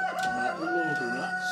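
A Dominant CZ breed rooster at a farm crows once in a drawn-out, near call, with a steady background hum and voices murmuring.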